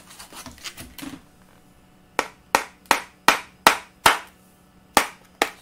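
Sharp, loud clicking scrapes against rock-hard cured plastic bond epoxy on a 2003–2007 Honda Accord glove box repair, about eight distinct strokes in an uneven rhythm, very close to the mic.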